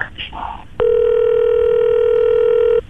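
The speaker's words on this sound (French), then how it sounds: "je refais le numéro de téléphone. Je vous rappelle tout de suite" A telephone is dialed, with a few short keypad tones followed by a loud, steady ringback tone lasting about two seconds; a voice speaks briefly at the start.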